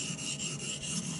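A steel knife blade being sharpened on a Naniwa Superstone water stone, giving a steady, smooth rasping scrape in even strokes, close and fairly quiet.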